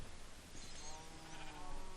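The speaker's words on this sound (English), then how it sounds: "Lots of cows and sheep though." Sheep bleat in a Minecraft FTB Ultimate savanna biome near a base with cows around, a fairly faint, drawn-out bleating over a steady game backdrop.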